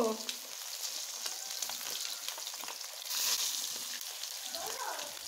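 Steady crackling sizzle of chitol fish frying in hot oil, continuous and close, with brief faint background noise.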